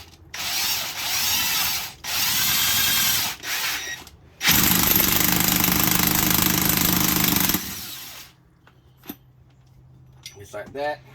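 An impact wrench with a big socket working on a 2005 Acura TL transmission, loud close bursts of hammering rattle in several runs, the longest about three seconds, then quieter clinks of parts being handled.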